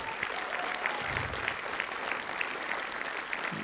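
An audience at an awards ceremony for a school of digital imaging claps steadily, a dense even wash of applause that stays constant and moderately loud from start to finish.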